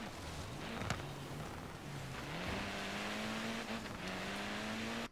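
A car races through snowy Blizzard Mountain in Forza Horizon 3, its engine droning and climbing through revs with gear shifts, steady and prominent throughout with a few brief knocks and scrapes.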